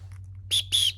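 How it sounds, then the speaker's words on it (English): A small signal whistle from a survival pouch is blown in two short, shrill bursts close by, each lasting a fraction of a second, over a faint low hum. "So you got something like a whistle."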